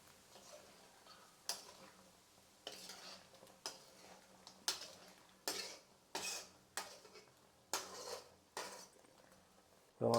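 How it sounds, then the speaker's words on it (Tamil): A spoon scrapes and knocks against a cooking pot as country chicken with spices is stirred, giving about ten separate clattering strokes at an irregular, unhurried pace, close and fairly loud with no talk. "ஸோ லைட்டாக வந்து கிளறி விட்டுறலாம் இப்போது"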